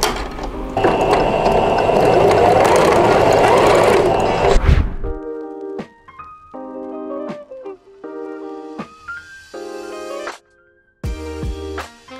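A sewing machine stitching a bag strap runs in a steady, loud mechanical clatter for about four seconds, then stops, and music takes over for the rest.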